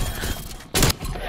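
A single loud, close shotgun blast in Call of Duty: Black Ops Cold War cuts through steady game noise in a short burst near the middle.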